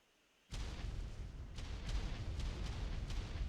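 Grenades go off in Ark Survival Evolved: a sudden loud blast, then a dense, sustained rumble with several sharp bursts layered through it.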